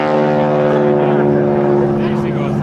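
A propeller airplane performs at an air show with a wing walker standing on top, its engine a loud, steady droning hum that holds for the whole stretch.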